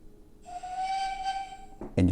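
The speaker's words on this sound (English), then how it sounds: "You can blow the whistle" A steady, breathy steam whistle tone from a Lego Disney toy train plays for over a second close up, ending abruptly as a louder clattering sound cuts in.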